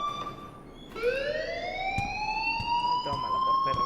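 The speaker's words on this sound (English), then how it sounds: "please turn off that alarm since that's your job." A fire alarm in the video game Life is Strange starts up and wails with a rising, sweeping electronic tone that grows steadily louder and higher, with a few faint voices and clatter underneath.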